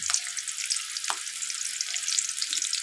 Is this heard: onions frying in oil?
yes